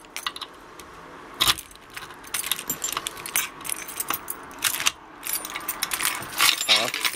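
Metal keys jangle and clink while a key is tried in a lock, a series of sharp irregular rattles and taps, close and fairly loud, with quiet handling noise between bursts.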